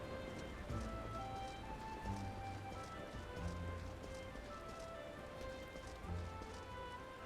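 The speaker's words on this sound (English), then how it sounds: "Oh, it's rainy here." Steady rain falls over Gridania in Final Fantasy XIV, a constant patter heard alongside soft game music and faint hoof-like thuds, with no talking.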